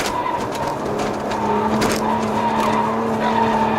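A Maserati Levante S SUV accelerating hard through a corner, a loud steady engine drone with sustained tonal hum and a hint of tire scrub, continuous and close, with no voices.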